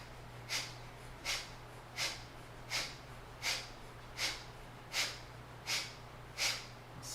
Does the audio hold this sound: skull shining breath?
yes